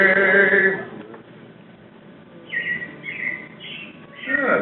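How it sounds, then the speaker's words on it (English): Robin chirps ring out in short bursts, a clear call at the start and a string of quick tweets later, fairly close and with no one talking. "It looks like the Robins are getting ready to celebrate Valentine's Day today"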